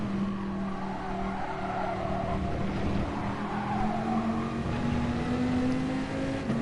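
Dodge Viper race car in Gran Turismo Sport powering out of a corner, a steady loud engine drone rising in pitch as it accelerates, with faint tire noise underneath.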